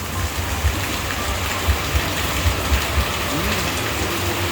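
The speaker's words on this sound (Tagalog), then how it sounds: "lakas ng ulan, pero halang sarap magkape" Heavy rain pouring down steadily, a loud continuous broadband hiss with scattered heavier drips and splashes throughout.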